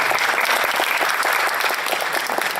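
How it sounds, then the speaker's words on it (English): An audience at a chamber of commerce and Rotary mayoral roundtable applauds, a steady wash of many hands clapping, loud and even throughout, with no talk over it. "Give yourself a round of applause."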